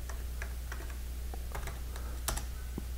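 Typing on a computer keyboard, a quick irregular series of light key clicks nearby over a steady low hum, ending with a firmer press of the Enter key, with no talking.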